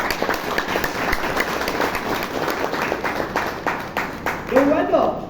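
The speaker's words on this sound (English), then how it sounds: "I'd like all of you to give yourselves a round of applause" Applause from the audience at a Bangalore Toastmasters evening meeting, a brisk, fairly close spatter of claps with a faint voice rising over it near the end.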